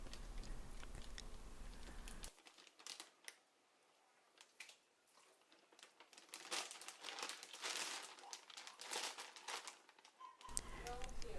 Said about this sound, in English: And then he puts it in a bag